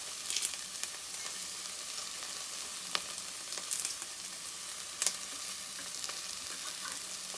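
Curry leaves frying in a pan of half-golden onions for Karnataka-style tomato rice, a steady soft sizzle with light crackles and a few sharper pops, close by and without speech.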